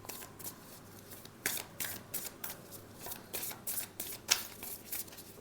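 Tarot cards are shuffled by hand for a monthly reading, riffling in quick repeated bursts with short pauses between them. A small sharp snap near the end stands out, and nobody speaks.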